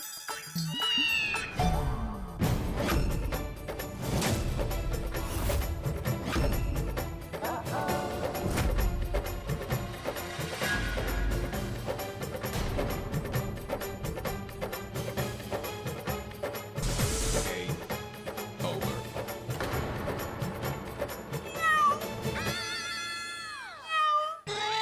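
Cat meowing amid a busy scene from a comedy TV show, cat-like cries over background music, while people talk around it.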